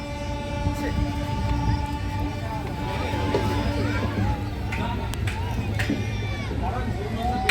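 An Amrit Bharat train pulling out of Malda Town rumbles steadily from inside a carriage, with faint horn-like tones and scattered clanks, while people talk over the noise throughout.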